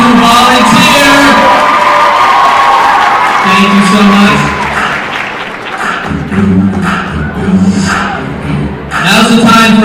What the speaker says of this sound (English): let's give out one more round of applause for our 4 fine gentlemen who volunteered